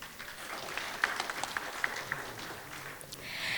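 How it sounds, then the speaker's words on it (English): Faint, distant applause from a crowd at a conference ceremony, a scattered patter of clapping that continues steadily without voices. "let us once again acknowledge them with a heartfelt round of applause"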